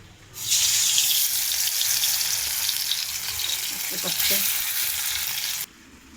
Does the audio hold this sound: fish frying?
yes